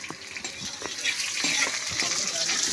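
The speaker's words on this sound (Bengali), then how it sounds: "এখানে মাছ ভাজা হচ্ছে।" Fish sizzling in a pan over a clay stove in an outdoor kitchen, a steady hiss of frying oil with occasional stirring clatters, close and fairly loud.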